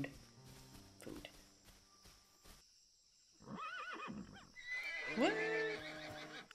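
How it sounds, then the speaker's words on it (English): Horses in a prehistoric-era video game give loud, wavering whinnies and neighs, one after another, over faint hoof clip-clops and game ambience, with no one talking. "There's freaking horses."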